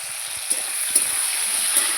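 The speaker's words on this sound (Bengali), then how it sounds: "সিমটাকে ভালো করে ভাজতে হবে।" Beans seasoned with salt and turmeric fry in a pan outdoors, giving a steady bright sizzle, with a few soft scrapes of stirring at regular intervals and no voices.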